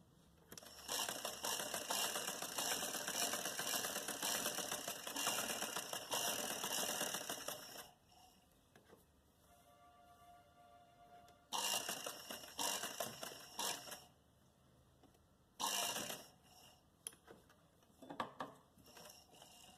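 A sewing machine stitches a folded fabric strip in several quick, buzzing runs, the longest opening the recording, each followed by a short quiet pause before the next burst.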